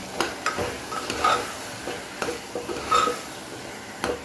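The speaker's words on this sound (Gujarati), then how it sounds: "મીઠું, સરસ મિક્સ કરી લઈએ." A spoon stirring salt into food in a pan on the stove: scraping strokes over a steady sizzle, with light metallic ticks from utensil against pan, close and without talk.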